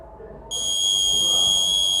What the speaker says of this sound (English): this sensor detects the fire and blows the buzzer